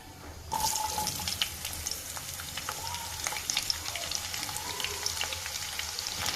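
Garlic and onion frying in hot oil for sambar, a sudden loud sizzle that starts abruptly and continues as a steady close crackle.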